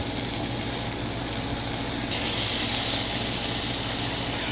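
Beef sears in a wide paella pan over high heat, a continuous loud hiss and sizzle that stays steady throughout with a faint low hum beneath and no talking.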